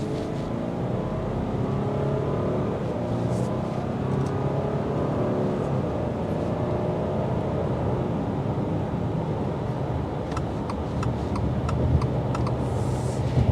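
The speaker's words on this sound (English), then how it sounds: "Road noise isn't too bad because they have decided to put an 18-inch wheel." A 2024 Subaru Legacy Limited sedan on 18-inch wheels accelerates steadily with a continuous low engine drone and road rumble, heard from inside the cabin, with no talking.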